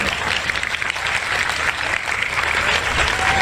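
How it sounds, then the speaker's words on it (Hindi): A live show audience claps continuously, a thick, even wash of applause lasting the whole stretch, fairly loud and without breaks. "आप ताली मत बजाओ"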